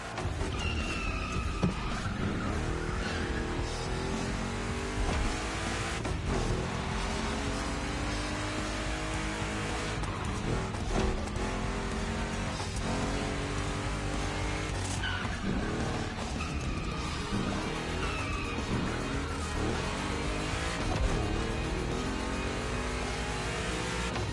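Two Chevy big-block cars race in The Crew Motorfest, their engines roaring and revving steadily with shifting pitch sweeps and occasional tire noise, loud and continuous throughout.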